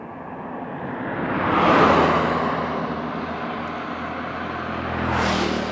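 Yamaha R15 V3 motorcycle fitted with a black full-system Proliner Pro SV exhaust, engine rising to a loud rev, easing off to a steady drone, then revving up again, with no talking.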